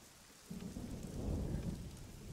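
Thunder and rain in the video game AI: The Somnium Files: steady rainfall hisses, then a deep thunder rumble swells in and builds louder before easing slightly.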